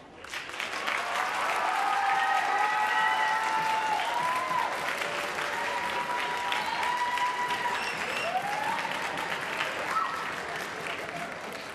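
A school orchestra-night audience at Winton Woods applauds and cheers for a departing director, sustained clapping rising quickly and holding for about ten seconds under a held musical tone before fading.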